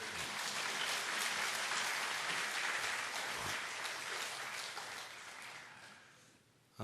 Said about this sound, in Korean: 여러분 인사할 때 박수로 격려해 주시기 바랍니다